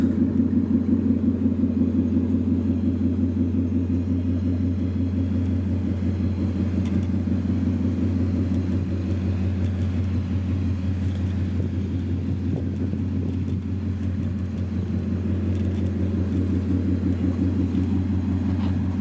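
A 2024 Ford Mustang GT V8 idles steadily up close with a deep, slightly choppy rumble, loud and continuous with no talk over it.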